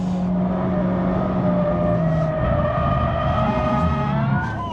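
A 2024 Mazda MX-5 facelift driven hard in race stability mode, its engine revving loud and sustained from inside the car with pitch climbing and shifting through gears.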